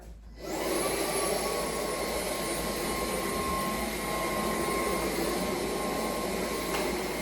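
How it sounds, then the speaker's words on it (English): A cordless wet and dry vacuum with its vacuum attachment switches on and runs with a steady, high-pitched whine and airy rush, loud and close, without pause. "So this is our vacuum cleaner attachment. Again, just press power."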